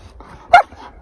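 A dog gives a single short, sharp bark on command at a wild camping spot in Oregon, loud and close against quiet background rumble.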